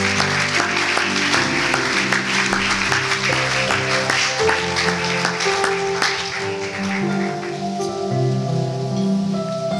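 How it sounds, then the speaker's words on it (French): A church congregation applauds after a Bible reading, a dense continuous wash of clapping that sounds almost like heavy rain, mixed with sustained organ or keyboard chords that carry on beneath and outlast the clapping. "On peut s'asseoir, on acclame."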